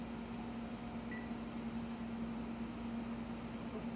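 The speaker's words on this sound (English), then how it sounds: "I'm just gonna start to set the oven for 400 for 5 minutes" Quiet, steady hum of an oven heating at 400 degrees while baking a classic cheesecake, a low constant drone with faint mechanical whir and no other activity.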